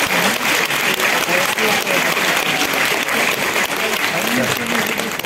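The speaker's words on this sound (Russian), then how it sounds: "Спасибо, что вы меня встретили аплодисментами" An audience at a memorial concert for Mikhail Zadornov in Moscow's Central House of Writers applauds with loud, sustained, closely packed clapping that carries on unbroken for several seconds, with a voice faintly underneath.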